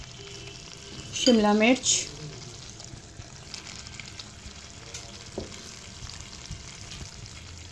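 Carrots and capsicum drop into a pan of nearly cooked chicken for homemade chicken vegetable spaghetti, giving a soft, steady sizzle with light stirring under a voice, after one short loud sliding squeal early on.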